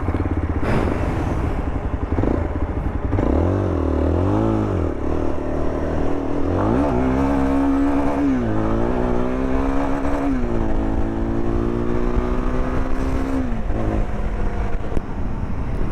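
A Jawa Yezdi Adventure motorcycle accelerating hard with wheel spin, its engine droning and climbing in pitch through several revs and gear changes, loud and close throughout without talk.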